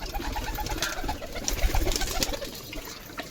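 Pigeons cooing softly at close range in low, rolling calls over a noisy background with faint clatter.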